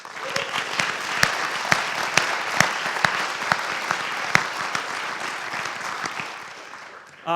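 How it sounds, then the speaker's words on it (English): Audience applause for ski coaches at a school athletic awards ceremony: steady dense clapping from a seated crowd with a few sharp, louder nearby claps standing out, tapering off near the end. "if we can give them all a round of applause"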